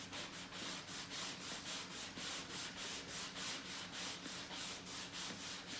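Prep pad rubbing back and forth over the upper rear seat of a Riley Pathfinder during restoration, a steady rhythmic scrubbing swish at close range with regular strokes about twice a second and no talking.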